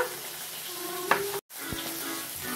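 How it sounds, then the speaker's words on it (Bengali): Hot oil spits and crackles in a pan of frying tomato and spices, with turmeric not yet added, making a steady close sizzle dotted with sharp pops and a brief break. "হলুদটা আগে দেওয়া হলো না, তাই তেলটা ছিটকে আসছে"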